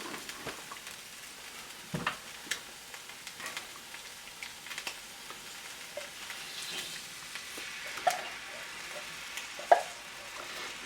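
Curry paste and coconut milk sizzle in a hot pan, a soft, steady crackling fry with scattered small pops and occasional stirring scrapes, fairly quiet and without talk.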